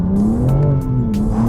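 A 2024 BMW M4 Competition xDrive pulls away from a green light, its engine rising in a loud, close, steady drone with no talk.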